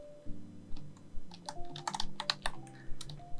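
Quick burst of typing on a computer keyboard, close and fairly soft clicks in an irregular run lasting a few seconds, with no talk.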